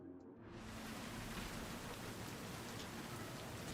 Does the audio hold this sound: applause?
no